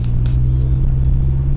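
Car engine rumbling loudly up close during a drive through small-town PoySippi, a heavy, steady low drone with a brief crackle near the start and no talk.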